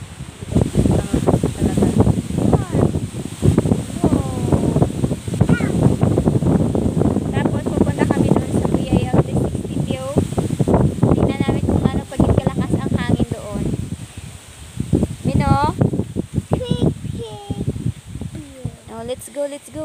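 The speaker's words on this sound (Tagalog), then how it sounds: "Sobrang lakas dito sa bukid. Amihan ang hangin. Sobrang lakas." Strong northeast monsoon wind on a farm buffets the microphone in loud, gusty roars, mixed with rustling, while people talk throughout.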